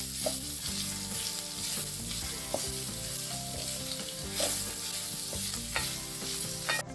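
Onion being sautéed in a pan, a close continuous sizzle with frequent spatula scrapes and light clinks against the pan, steady and moderately loud, no talking.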